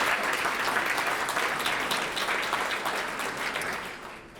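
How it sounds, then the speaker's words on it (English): An audience at an annual business appreciation breakfast applauds warmly, a steady wash of clapping that gradually tapers off toward the end. "Let's give them a round of applause."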